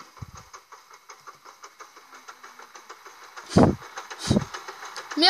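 Engine of a built motorbike in the Scrap Mechanic building game runs with a steady low chugging idle, broken by two louder, harsher revving bursts near the end.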